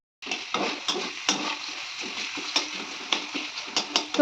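Onions frying in a pan for a Bengali home-cooked lunch with bitter gourd and small fish: a steady close sizzle with scattered clicks and scrapes of a utensil stirring against the pan.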